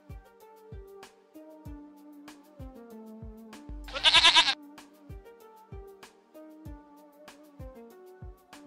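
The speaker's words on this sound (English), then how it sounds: "Goat." A goat bleats once, a short wavering call standing out over light background music with a plucked rhythmic beat.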